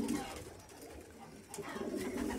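Soft, low pigeon coos murmur continuously at moderate volume, with occasional light rustling and a faint voice in the background.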